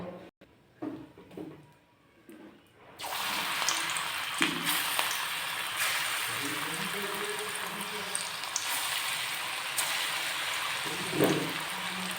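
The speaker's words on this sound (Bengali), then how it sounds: "একই রকমভাবে বাকি এই পকোড়াগুলোকেও ভেজে নেব।" Onion and coriander pakoras fry in hot oil with a steady, even sizzle that holds after a quieter start with a few handling knocks.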